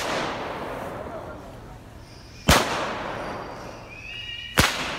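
Firecrackers are set off outdoors at dusk to drive roosting birds out of trees, two sharp loud bangs a couple of seconds apart over a noisy background of chattering birds, with faint bird calls after each blast.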